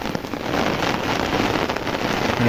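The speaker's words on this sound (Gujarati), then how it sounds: "ભૂખેર નથી, વરસાદ જ છે કાયદેસર" Heavy rain pours steadily and loudly throughout, a dense unbroken wash with no voices.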